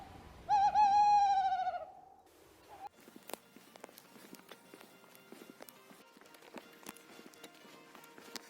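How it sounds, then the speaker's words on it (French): A bird like a tawny owl gives one long, loud, wavering hoot in the morning. Quieter footsteps and faint rustling follow as someone sets off on a long walk carrying a heavy pack. "un peu comme un chat-huant, une chouette, un truc comme ça."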